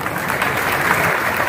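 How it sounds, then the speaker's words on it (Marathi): An audience applauds at a large job fair and self-employment gathering in Dharashiv, with an even, continuous patter of many hands clapping in a hall. "आपल्यालाही विनंती आहे की टाळ्या वाजवून आपण देखील अभिनंदन करावं"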